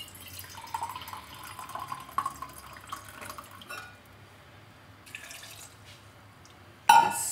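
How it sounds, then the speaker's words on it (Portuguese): Water is poured into melon rinds for juice, with a thin trickle and splashing in bursts during the first few seconds, a quieter stretch, then a sudden louder splash near the end. "colocar mais um pouquinho de água"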